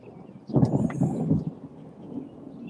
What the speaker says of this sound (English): Nice summer storms here in Michigan.